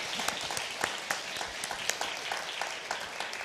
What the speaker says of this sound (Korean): 이 백성이 박수하고 있어.